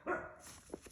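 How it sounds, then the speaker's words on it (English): A dog barks once sharply near the start, then a couple of fainter yips follow, fairly close in a quiet indoor room. "sorry if you hear my dogs barking"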